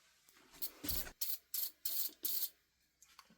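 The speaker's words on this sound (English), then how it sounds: "as you spin it, you tighten this up and it presses that rivet in" A chain rivet spinner is turned by hand to press and mushroom the rivets on a .325 saw chain. It gives five or six short, dry rasping strokes in steady rhythm, close up and fairly quiet, then a faint tick or two.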